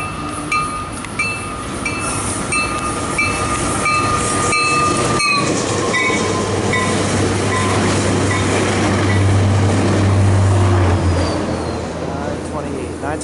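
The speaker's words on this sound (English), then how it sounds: "Northbound Caltrain Express." A northbound Caltrain Express thunders past close by, loud continuous rumble with clattering wheels and steady rail noise building over the span, a horn-like tone early on, and voices talking over it.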